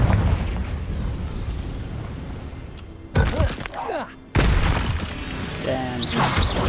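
Fiery Confringo spell blasts in Hogwarts Legacy, a loud burst at about three seconds and another around four and a half, each with a booming crackle over game noise and music.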